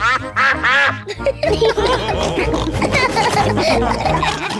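Cartoonish duck quacks from a Peppa Pig cartoon repeat over a busy, cheerful scene with music and voices, loud and close throughout.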